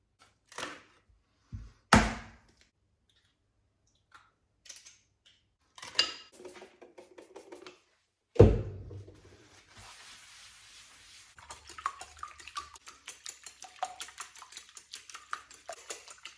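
Scrambled eggs being cooked in a home kitchen: scattered clinks and knocks of utensils and pans, then a soft steady sizzle with light scraping, fairly close and without talk.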